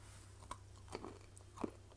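Crunchy homemade ghost pepper beef jerky being chewed, a few quiet sharp crunches spaced irregularly over a low steady hum, close and faint with no talking.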